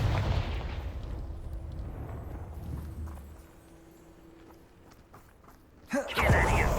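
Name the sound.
Confringo blasting curse explosion in Hogwarts Legacy video game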